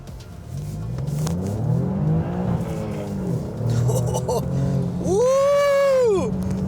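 A 2017 Alfa Romeo Giulia Quadrifoglio engine, over 500 horsepower, drones and rises, then revs sharply into a loud, rising-and-falling whine near the end.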